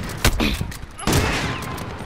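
Video game gunfire in a first-person shooter: two sharp loud bursts of shots, the second followed by rapid rattling fire and echoing tails, with faint voice chatter underneath.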